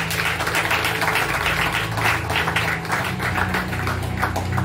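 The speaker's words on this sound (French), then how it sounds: "Sur vos applaudissements" Audience at an evangelical church conference applauding the arrival of an evangelist, a dense run of rhythmic clapping with musical tones sustained underneath, moderately loud and continuous.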